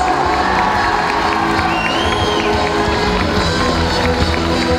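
A crowd at a kids' cosplay contest at the Anime Friends 2015 convention cheers, shouts and claps loudly in a large hall, with children's voices prominent amid a continuous roar.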